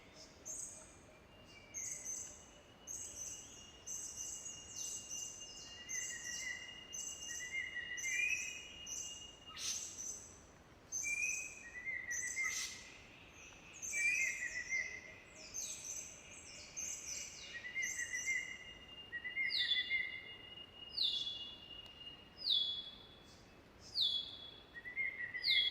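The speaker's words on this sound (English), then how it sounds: "The lesser ground robins, regent whistlers," Birds sing in the cloud forest of Papua New Guinea, including lesser ground robins and regent whistlers, with repeated high whistles and chirps over a steady insect hiss, layered and moderately distant throughout.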